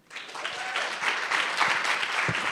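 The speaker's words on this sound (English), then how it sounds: "Huge round of applause." Audience applause at a gender-equality event, a crowd clapping that swells quickly from silence into a sustained, fairly distant wash of hands.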